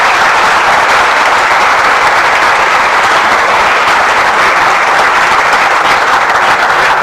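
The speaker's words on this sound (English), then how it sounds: "May I please have a round of applause for him." A loud, unbroken round of audience applause at an academic lecture event welcoming the chief guest, a thick, even roar of clapping from a large hall lasting several seconds.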